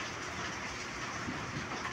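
Steady rain and gusting wind through a stormy night, a continuous broadband roar without pause and no distinct thunderclap standing out.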